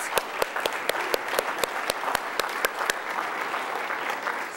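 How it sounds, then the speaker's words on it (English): Audience applause at a UC Berkeley panel on workforce strategies and green jobs, a steady wash of many hands clapping with a few sharp individual claps standing out, fairly close and alone, holding level for several seconds. "So let's give them a round of applause"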